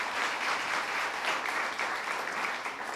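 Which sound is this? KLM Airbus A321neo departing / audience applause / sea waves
audience applause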